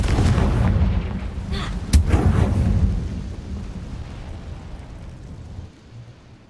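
A Confringo fire spell explodes in the Hogwarts Legacy video game. A loud, booming rumble carries a sharp crack near the two-second mark, then fades into a low tail.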